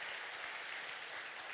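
A church congregation applauds during a Sunday worship service, steady and even clapping that fills the room for the whole stretch, with no voices on top.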